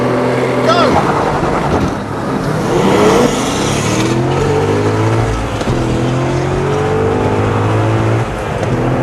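A Porsche GT2 and a Corvette Z06 launch side by side in a drag race, engines roaring and revving hard through gear changes, loud and close, with a person speaking over the noise.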